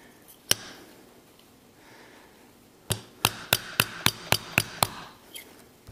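A short length of PVC pipe taps a fork seal into a KLX/DRZ 400 fork leg during a rebuild: one sharp knock, a pause, then a quick, even run of about eight crisp, close knocks.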